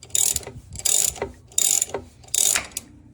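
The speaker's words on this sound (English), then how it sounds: "I'm using a ratchet to pull it off" A hand ratchet clicks in four regular bursts while turning a puller to draw the harmonic balancer off a 1981 C3 Corvette engine, each burst a quick run of close, crisp pawl ticks separated by brief pauses.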